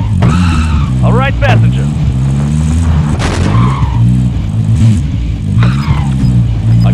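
A vehicle in Call of Duty: Warzone gives a loud, steady engine rumble with tire squeals and skids. Players talk over it throughout.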